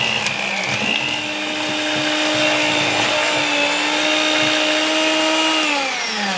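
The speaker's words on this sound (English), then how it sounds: "We're going to blend this up until it's nice and smooth." A blender whirs steadily at high speed, mixing a thick peanut butter cup cheesecake filling of cream cheese and eggs. The motor holds a loud, even whine for several seconds, with slight shifts in pitch as the mixture churns.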